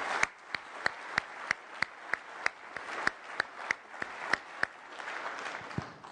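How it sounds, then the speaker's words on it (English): Conference keynote audience claps in a sparse, regular rhythm, about a dozen distinct claps standing out over a soft wash of scattered clapping; moderately faint and distant, with no talking. "another round of applause"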